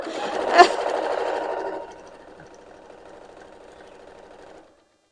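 A sewing machine stitches rows of a kite-in-a-square quilt block in one steady loud run with a sharp knock near the start, then drops to a softer, quieter whir before stopping.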